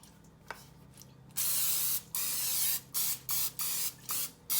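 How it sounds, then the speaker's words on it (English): Cooking spray hisses from an aerosol can onto a baking pan for a sweet potato casserole, first in one long blast and then in several short, evenly spaced bursts, close and loud in a home kitchen. "Spray your pan good so it does not stick."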